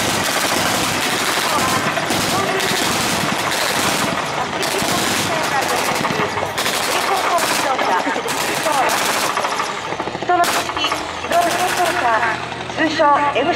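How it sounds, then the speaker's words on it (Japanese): Maneuver combat vehicle (MCV) firing its cannon at a Japanese army base anniversary training display at Imazu, amid a loud, dense crackle of gunfire and repeated sharp blasts across the whole span. "MCV が射撃します。 続けて大きな音がします。"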